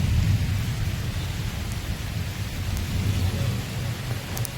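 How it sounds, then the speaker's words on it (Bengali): Heavy rain pours down in a loud, steady roar, with deep thunder rumbling beneath it throughout and no voices. "দেখুন এই সাইডে কি বাবা প্রচণ্ড বৃষ্টি"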